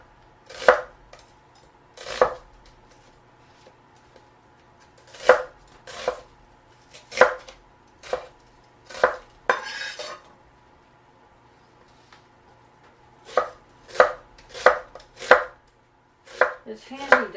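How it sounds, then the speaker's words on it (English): A knife julienning vegetables into thin strips on a cutting board for vegetable broth: around fourteen crisp, close chops, arriving singly and in quick runs with short pauses between. "So I just julienne these into not real tiny thin strips"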